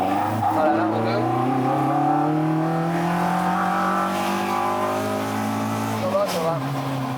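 A car engine drones steadily and close, its pitch gliding up and down as it revs and shifts while driving, with a brief dip in tone near the end.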